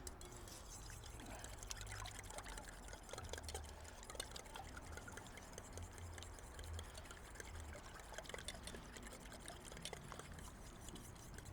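A small amount of tap water pours steadily into a kitchen container, a faint continuous trickle with a soft low hum underneath and no talk.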